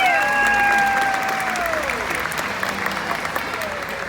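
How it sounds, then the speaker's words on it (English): A crowd applauds at a SeaWorld show, the clapping steady and fairly loud after a voice trails off at the start, with tonal sounds threading through the background. "let's give a great round of applause for all of you guys' help today"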